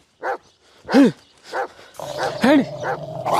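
A dog barks twice, sharp and close, during a comic skit about police catching a stray dog thought to carry a virus, with short voices and yelps around the barks.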